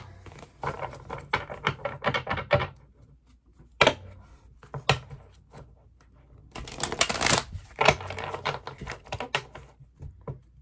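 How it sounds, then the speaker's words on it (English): A deck of cards riffled and shuffled by hand in bursts of rapid crisp flutters, with a pause between rounds, close and fairly loud. "I just need to make sure to shuffle this very well."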